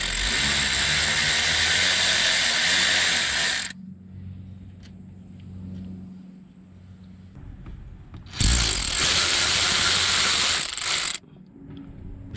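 A ratchet wrench loosening the brake caliper slide pin bolts on a Toyota Camry front brake, two long bursts of fast clicking with a quiet spell of faint workshop noise between them.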